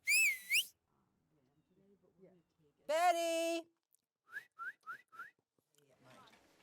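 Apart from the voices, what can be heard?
taxi whistle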